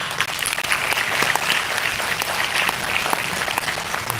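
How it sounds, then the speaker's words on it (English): Steady applause from the audience at an Indian Economic Association conference, dense continuous clapping filling the hall for about four seconds without talk. "a huge round of applause,"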